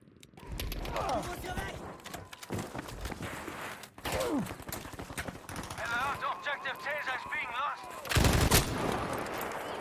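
Gunfire in a Battlefield V squad conquest match, with rapid bursts of shots and sharp cracks alongside game effects and clattering, while a commentator talks over most of the action.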